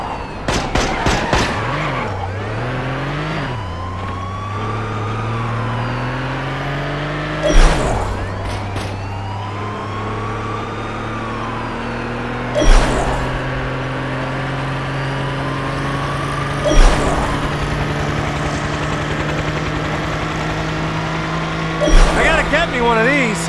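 A car driving in the video game Gangstar Vegas: a loud engine revs up and settles into a steady drone, with gear changes and short screeching bursts at intervals along the way.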